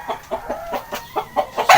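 Chickens on a Filipino poultry farm cluck close by in quick, repeated bursts, with one sharper squawk near the end and no talk.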